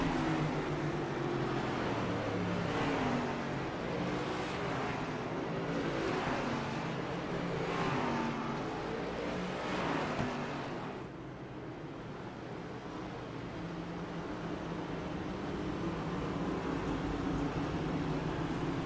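Race cars on a pace lap behind a Porsche pace car at the Charlotte Roval, a steady rumbling engine drone with slow swells of passing cars in the first half, then a flatter distant hum.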